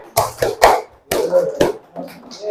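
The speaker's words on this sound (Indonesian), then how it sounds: "Tepuk semangat." Students in a classroom perform a rhythmic spirit clap: a handful of sharp, close claps in a patterned beat, mixed with group voices chanting along.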